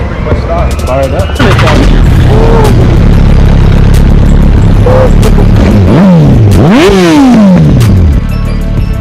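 A mostly stock sport motorcycle fitted with an aftermarket exhaust fires up and is revved several times, loud close blips rising and falling sharply over a rumbling idle, with some popping and people talking nearby.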